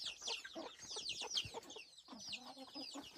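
Flock of wild-type chickens clucking and chattering busily on a rural farm, steady overlapping calls close by, with no talk in the clip.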